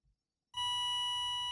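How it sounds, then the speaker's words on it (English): A steady electronic beep tone starts abruptly after a short pause and holds continuously, bright and clear, with a faint low hum underneath. "we brought back the beeping sound that we used earlier"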